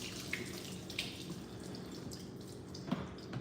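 Water is poured from a cup into a home coffee maker, giving a steady close trickle and splash with a few faint drips and clinks.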